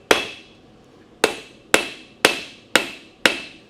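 Six sharp metallic strikes from the cross peen of a blacksmith's hammer forging the front bevel of a knife, ringing briefly with each blow at an uneven rhythm, close and loud.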